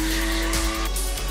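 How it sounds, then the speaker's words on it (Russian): Race car drifting through a controlled skid at a competition, engine droning steadily with tire squeal rising in brief bursts, fairly close and continuous, no voices. "Дрифт. Соревнования на автомобилях при движении в управляемом заносе."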